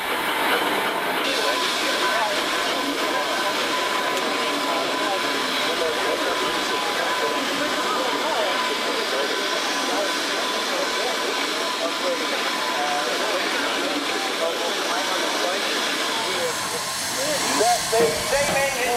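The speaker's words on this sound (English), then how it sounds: "The steam engine usually works at 120 psi." A steam traction engine pulling a plough works steadily in a field, giving off a constant loud hiss over a low mechanical rumble with no break.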